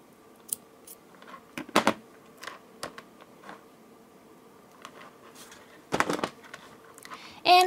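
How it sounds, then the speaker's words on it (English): Scissors snip through thread while making a handmade necklace, giving a few short, sharp, close clicks scattered over a quiet background. "Now, I will take the scissors, cut the thread,"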